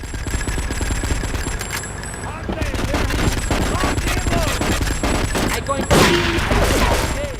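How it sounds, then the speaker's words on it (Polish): Gunfire in Grand Theft Auto 3, dense overlapping shots and bursts crackling continuously and loudly, with a sharper blast near the end and faint game sounds mixed in. "Aha, strzelają z tych."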